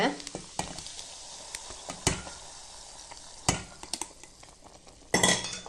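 Light clinks and scraping of a spoon against a metal pot as fried ingredients are added to payasam come in short, scattered bursts, with a faint sizzle between them.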